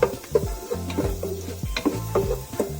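Roasted garlic sizzles in a pan for pork zingaro while a utensil stirs and scrapes it, a steady fry hiss broken by repeated close knocks and clinks against the pan.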